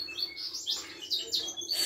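Gouldian finches chirp indoors in a breeding aviary, a string of quick, bright high tweets that repeat in small overlapping bursts, close and fairly loud, with no talking.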